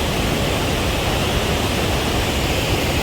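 Wapta Falls in British Columbia, Canada, pours with a constant, dense roar of rushing water, heard alone and unchanging.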